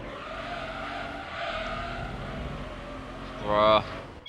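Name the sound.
race car sliding in Gran Turismo 3 video game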